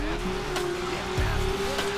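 Car tires squeal in the racing video game Need for Speed: Underground, a sharp skidding screech over a steady, droning engine hum, with no talking.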